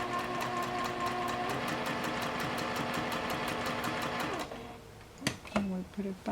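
A sewing machine stitches appliqué in a rapid, even mechanical rhythm for several seconds, then stops, leaving a few soft clicks and handling noises close by.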